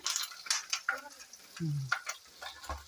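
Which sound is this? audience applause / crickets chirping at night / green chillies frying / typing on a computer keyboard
green chillies frying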